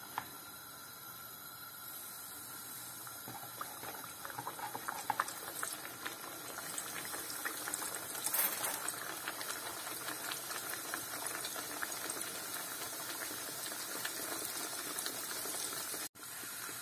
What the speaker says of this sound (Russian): Сейчас будем жарить наши чебуреки.